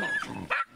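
Fox terriers bark at close range during a wild boar hunt, a short excited yelp followed by a second sharp bark with a brief whine between, no talk.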